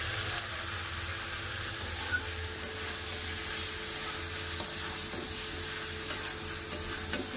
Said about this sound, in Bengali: ভালো করে মাংসটা তেল ছেড়ে গেছে, এবার জল দিয়ে দেবো।